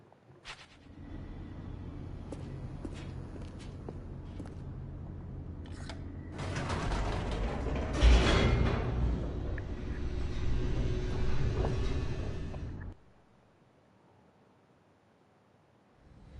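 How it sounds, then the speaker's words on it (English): An elevator descending in The Stanley Parable video game: a low mechanical rumble and hum that swells louder midway, rattling and creaking, then cuts off abruptly into near silence. "The elevator raced downward, plummeting towards an unknown fate."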